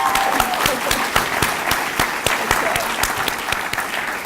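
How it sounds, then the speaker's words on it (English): A room full of people applauds the finalists at the 2016 Immigrant Journey Awards ceremony, dense and lively clapping with sharp individual claps standing out, sustained from start to finish. "So let's give a round of applause for the finalists."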